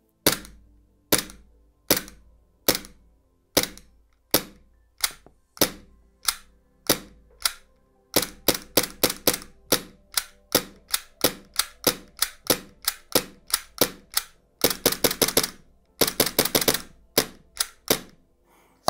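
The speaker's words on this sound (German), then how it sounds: "So, dann würde ich sagen, geben wir mal ein paar Schüsse ab. Kugeln sind keine drin." An Army Armament R17 gas blowback airsoft pistol dry fires without BBs, its sharp slide-cycling cracks coming loud and close, first spaced singly, then in quicker bursts and rapid strings, with no talking.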